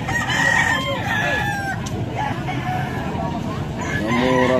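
Several roosters crow and cluck amid a noisy, crowded background, apparently a market, calls overlapping near and farther off, with faint voices mixed in.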